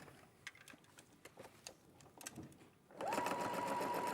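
A sewing machine stitches fabric: scattered light clicks and ticks first, then a steady, loud whirring run of rapid stitching with a constant motor whine near the end.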